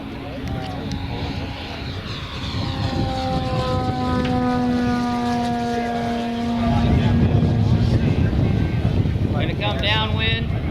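An electric warbird flies a low pass at an Arizona flying festival, its propeller whine shifting in pitch as it sweeps by, while voices talk nearby.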